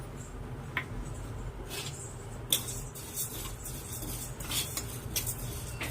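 Moong dal dry roasting in a pan is stirred with a metal spoon, giving intermittent scraping and clinking strokes against the pan over a low, steady background hum, with no voices.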